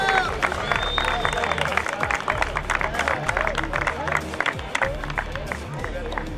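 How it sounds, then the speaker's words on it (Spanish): A crowd at a Citroën Competición Clase B race podium claps steadily for the winner, dense applause running throughout under a layer of crowd babble. "El aplauso para el ganador."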